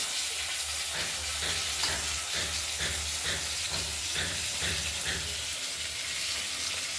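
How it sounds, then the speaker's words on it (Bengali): Rohu fish pieces frying in a pan, a loud, steady sizzle and hiss with a faint pulsing bubble running throughout, close up and with no voices. "ভালো করে ভাজা করে নিচ্ছি।"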